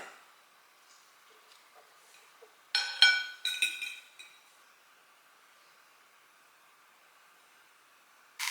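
Grilled zucchini slices set down on a plate, giving a short cluster of light clinks and taps of utensil on dishware in a quiet kitchen, with a brief clink again at the very end.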